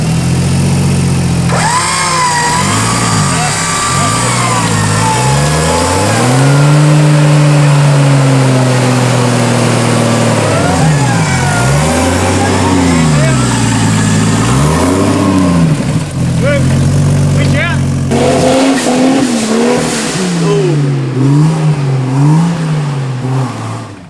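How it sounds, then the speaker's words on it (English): A 4WD truck stuck in a muddy bog hole in Bunyip Forest revs its engine hard and repeatedly, the pitch surging and dropping in loud waves with voices talking over it. "Now that's one mean truck. Listen to that raw power in it."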